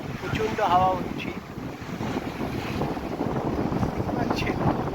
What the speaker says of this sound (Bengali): প্রচণ্ড ঢেউ, প্রচণ্ড হাওয়া হচ্ছে